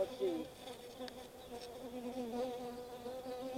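Honey bees buzz steadily and close during a beehive inspection a month after installation, a dense droning hum with shifting pitch that persists throughout, while a voice briefly speaks near the start.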